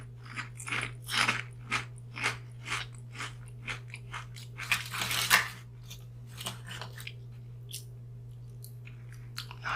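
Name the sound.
crunching and chewing potato chips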